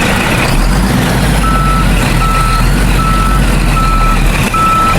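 A truck in reverse sounds its backup alarm, steady evenly spaced beeps over a loud low engine rumble and broadband noise, continuous for about five seconds with no talking.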